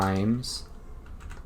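Fingers tap quickly on a computer keyboard, producing a few close, crisp clicks just after a brief spoken word.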